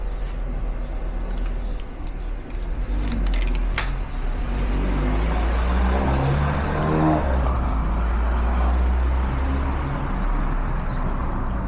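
A motorcycle ridden around a compound in Dubai, its engine a low, continuous rumble that rises and swells in the middle as it speeds up, with a few brief rattles near the start and no talking.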